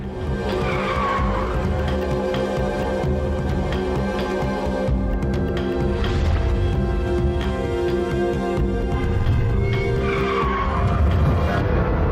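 A car driving fast in a chase, tires squealing and skidding repeatedly over a loud, continuous engine roar.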